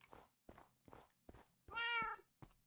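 A cat meows indoors, one drawn-out mid-length meow near the end, preceded by several soft thumps or taps, fairly quiet with no talking.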